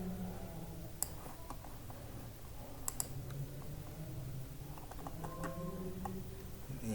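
Computer keyboard clicking as example program code is typed, with scattered light keystrokes and a few sharper taps, quiet and close in a room during a class session.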